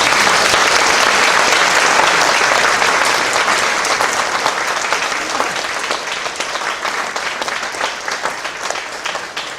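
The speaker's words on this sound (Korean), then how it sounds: "우리 목사님 꽃다발 받으실 때 더 큰 박수로" A church congregation at Yeongdeungpo Church applauds as a pastor receives flowers at his emeritus installation ceremony, producing dense, sustained clapping from a large crowd that eases off slightly toward the end.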